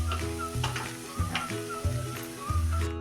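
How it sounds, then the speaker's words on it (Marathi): Hot coconut-jaggery modak filling is scraped from a pan onto a plate, with a steady sizzle and rhythmic scraping knocks repeating about every half second, close and clear. "आता हा गॅस मी बंद करते आणि हे सारण एका ताटात ओतून आपण थंड करत ठेवूया."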